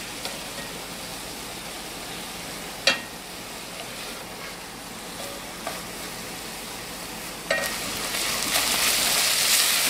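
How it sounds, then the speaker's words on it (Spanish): Nearly a cup of chopped white onion frying in a pan to brown, a steady close sizzle with a few sharp stirring clicks, growing louder and hissier toward the end. "Voy a agregar la cebolla también para que se dore"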